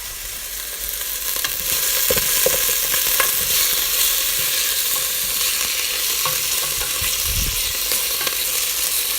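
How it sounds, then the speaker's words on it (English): Food sizzles and fries in a pan on the stove, a continuous close hiss with occasional stirring clatter and pops, and no voices. "Listen to that sizzle."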